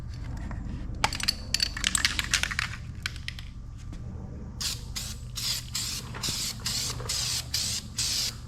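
Aerosol spray coating hissing onto a metal trailer gate on a kayak trailer build, heard in repeated close bursts of a second or so each with brief pauses, after some earlier clicking and handling noises.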